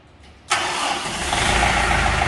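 A Kubota engine cranks and starts abruptly after a quiet moment, jumping into a loud steady running roar that holds close and constant.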